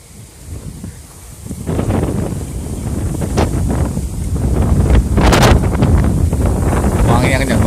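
Strong gusting wind at the Merapi viewpoint in Kaliurang, Sleman, Yogyakarta, roaring loudly and buffeting the microphone, rising and building over the seconds with no lull.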